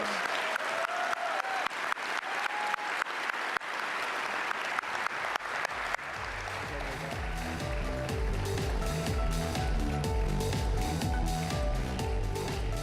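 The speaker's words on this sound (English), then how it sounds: "Let's give one more round of applause for our Play It Forward winners." An awards-ceremony audience at a sports gala gives a sustained round of applause for the winners, then music swells in and carries on beneath the fading claps.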